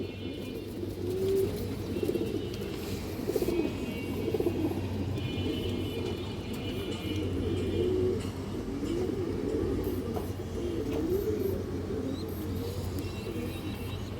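Several pigeons in a loft give soft, repeated coos over a constant low rumble that runs throughout, the birds close by and no one speaking.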